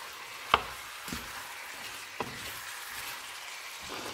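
Chicken with salt being stirred in a hot pan for Punjabi chicken curry, a faint steady sizzle with a few soft scraping knocks of the spoon, quiet and close, no talking.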